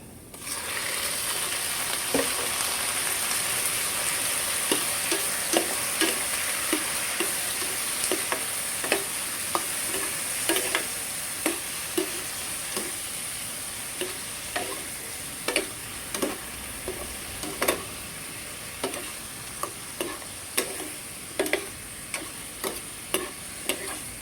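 Cleaned squid sizzles steadily in a hot pan for Filipino ginataang pusit, with a constant frying hiss punctuated by regular sharp clicks and scrapes of stirring that grow more frequent toward the end.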